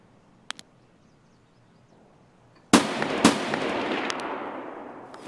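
Gunfire in the video game Escape from Tarkov: after a quiet stretch with a couple of faint clicks, a sudden loud shot cracks out, quickly followed by a second, then a long noisy rumble with a few more sharp bursts.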